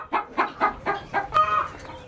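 A chicken clucks in a quick series of five or six sharp, close calls, ending in a longer drawn-out cackle.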